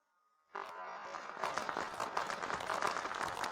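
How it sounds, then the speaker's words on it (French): An audience applauds a family matriarch appearing on stage, the clapping starting abruptly after near silence and swelling into a full, steady ovation from a large crowd, heard at moderate distance. "Applaudissons-la bien fort"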